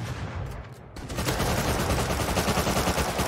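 Gunfire in the video game Rust comes as loud, rapid bursts of shots that turn into dense, sustained firing after a brief quieter opening.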